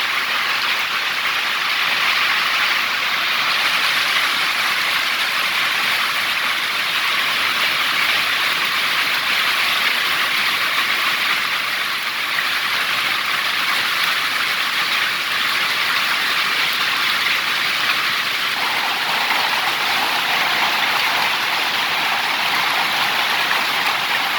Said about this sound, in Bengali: আর এই দেখেন শিল পড়ে যাচ্ছে